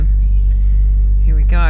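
Nissan Skyline R33 engine rumbling steadily while the car rolls onto a ferry, a loud continuous low drone throughout, with a brief rise near the end.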